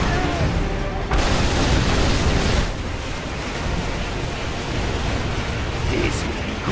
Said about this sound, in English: Infernal cannons loaded.